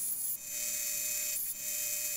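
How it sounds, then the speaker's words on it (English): A small drill whirs steadily while drilling out a custom Hot Wheels toy car, a faint, even, high buzz with two brief dips where the bit catches. "Oh, they just drill it out."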